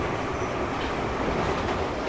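A New York subway train running on the tracks, a loud continuous rumble and rattle of wheels and cars with broadband roar and faint squeal, steady throughout with no talk.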